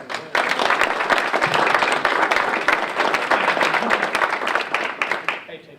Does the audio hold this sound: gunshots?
no